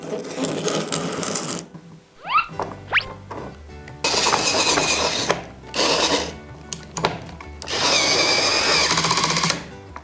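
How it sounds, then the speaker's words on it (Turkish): A cordless screwdriver driving a screw gives several loud bursts of motor whir separated by short pauses, each burst close and steady, with a brief rising whine between them. "Şimdi de bu vidayı bu şarjlı tornavida ile sıkalım."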